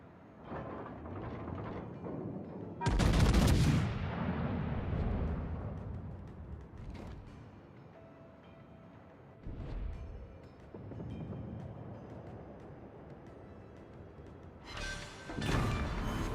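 Naval gunfire and explosions from a warship battle in the World of Warships video game: loud booming blasts at the start, around ten seconds and near the end, with rumbling decay and quieter battle ambience between.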